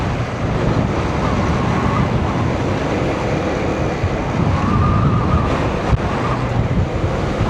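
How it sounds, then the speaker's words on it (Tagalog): Strong wind under overcast, thundery skies roars steadily across the microphone for the whole stretch, a loud, broadband rumble with gusty surges and no voices. "Malakas pa yung hangin"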